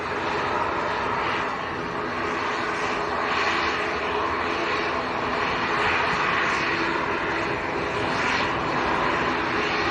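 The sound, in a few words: noisy ATR turboprop aircraft at Manchester airport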